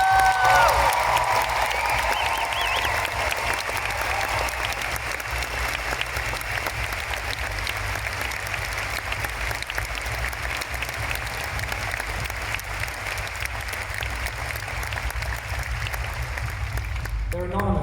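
A crowd at a vegan conference event bursts into loud, sustained applause that fills the room for many seconds, claps blending into a dense, even roar that tapers near the end.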